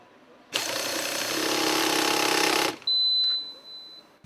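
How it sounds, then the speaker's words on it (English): A Yokota YED90 impulse wrench tightens steering housing bolts on a DAF truck factory assembly line in Belgium. It gives one loud, dense rattling burst of about two seconds, followed by a thin, high whine. "An operator is using the Yokota system wrench YED90 for tightening steering housing bolts."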